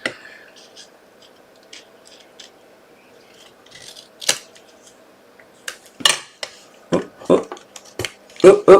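Scissors snip through card paper while a greeting card is being made, starting with faint, sparse cuts and building to louder, closer snips, with a few soft voice sounds between them.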